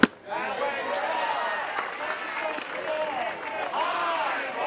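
Large sellout crowd at a college softball game between Florida and Georgia, a steady roar of cheering and shouting that holds through the whole stretch after a brief sharp sound at the start.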